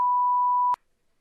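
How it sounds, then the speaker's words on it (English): A single sustained censor bleep, a pure steady tone, rings loudly for under a second and cuts off with a click, then silence. "Can I have a bleep?"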